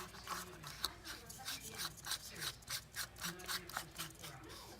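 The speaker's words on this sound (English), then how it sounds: "all you have to do is screw it into the socket" A light bulb being screwed into a Koogeek smart socket, giving a close, rhythmic scraping and rubbing of glass and threads turning in repeated short strokes, fairly quiet and with no speech.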